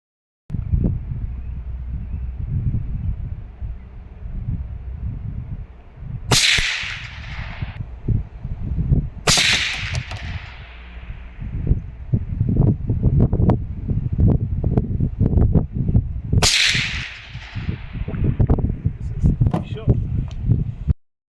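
Three sharp, loud gunshots from a semi-automatic .22 Magnum rifle fired in the bush, each cracking out with a decaying tail, spaced several seconds apart over steady outdoor rumble and wind-like noise, with a person talking throughout.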